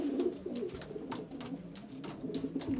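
Belgian racing pigeon cooing up close, a run of soft, throaty repeated coos with no talk over them.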